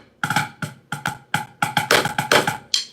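A drum shot pattern is played with accents landing after the beat, a quick sequence of crisp close stick hits with some louder accented strokes mixed among lighter ones, no talking.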